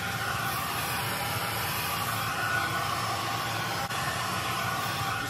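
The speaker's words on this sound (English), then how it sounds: "Don't get too close with your heat gun." Heat gun blowing steadily to shrink plastic wrap tightly around a foam pumpkin, a continuous close airy roar with no pauses throughout.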